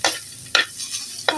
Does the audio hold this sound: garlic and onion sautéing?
yes